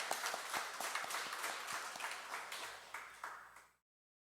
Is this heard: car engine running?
no